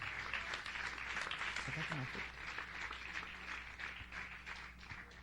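A congregation at an evening church service applauds softly and steadily, the clapping sounding faint and somewhat distant, with a low murmur of voices underneath.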